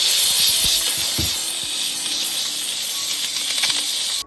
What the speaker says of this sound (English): we're going to get the trusty steamer and just go ahead and steam the soles down as well.